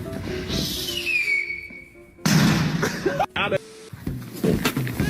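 A high descending whistle like a firework launch in Genshin Impact, followed by bursts and pops with loud talk and game noise mixed in.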